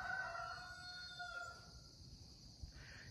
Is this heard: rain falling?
no